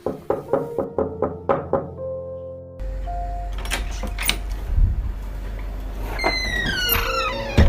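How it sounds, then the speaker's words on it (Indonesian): Eight slow, even knocks on a door, close and clear, followed by a low sustained rumble and scattered creaks and clatter. "ku ketuk pintu perlahan"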